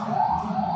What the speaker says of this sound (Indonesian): sirine suara-suara. ambulan karena ini di dekat jalan raya menuju rumah sakit